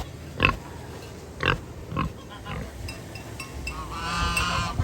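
Pigs at an oatmeal feeding on a farm animal sanctuary give a few low grunts and snorts spaced out over a steady outdoor background, with a higher squeal near the end.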